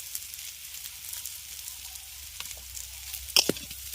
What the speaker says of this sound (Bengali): এবার মশলাটা দিয়ে আবার ভালো করে নেড়ে চেড়ে একটু ভেজে নেব